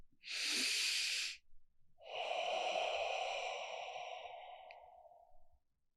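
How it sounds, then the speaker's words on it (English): A person demonstrates deep calming breathing: a sharp, breathy inhale through the nose followed after a pause by a long, steady, whooshing exhale that slowly fades, all close and quiet with no talk. "You want to do deep breathing."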